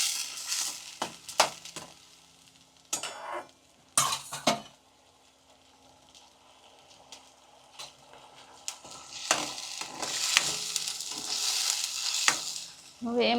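Onion gravy fries in a pan as a spoon stirs it, giving intermittent scraping strokes over a soft sizzle that grows louder toward the end, close by with no talk.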